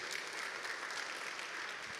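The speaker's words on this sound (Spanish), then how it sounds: "dele palmas al Señor en esta noche" A congregation clapping during an evening Spanish-language church service, a steady, dense patter of many hands heard faint and distant, with no voices over it.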